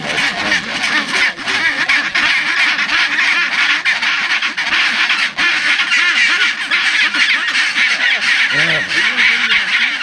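Noisy seabird colony on Halfmoon Island, Antarctica, with many birds calling at once in dense, harsh, overlapping squawks and brays, loud and continuous throughout.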